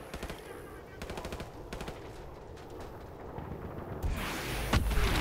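Rapid automatic gunfire rattles in bursts during a Call of Duty Modern Warfare match, short volleys near and loud over a steady battlefield rumble, with more shooting and noise swelling at the end.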